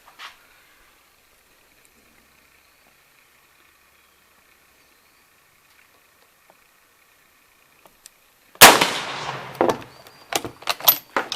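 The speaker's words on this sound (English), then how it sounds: "So we've got Dad shooting the Chilean 1895 Mauser." A Chilean 1895 Mauser rifle fires surplus 7mm ammunition: one sharp, loud crack after a long quiet stretch, followed by clattering handling noises and brief knocks.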